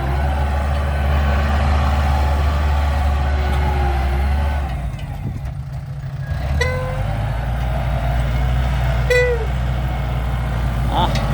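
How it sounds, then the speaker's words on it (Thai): A Kubota single-cylinder tractor diesel engine runs steadily and loudly up close, a continuous low throb that dips briefly mid-clip before resuming, with a few short higher tones cutting in. "สูบเดียวคูโบต้าต้องยกให้เขาแล้วครับนะเครื่องยนต์สูบเดียว"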